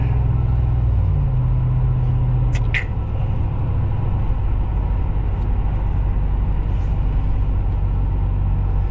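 A Dodge Ram pickup fitted with a Flowmaster 10 style muffler idles with a steady, deep exhaust rumble, loud and close, continuous throughout with a brief faint clink partway.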